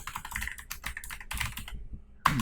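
Quick, irregular keystrokes on a computer keyboard, close and clear, tapping out text in Microsoft Word 2016, with a short pause before a final louder key press.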